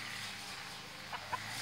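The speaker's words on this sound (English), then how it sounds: "This is one of the other roosters." A rooster on a rainy homestead gives a couple of short, faint clucks over a soft, steady background hiss.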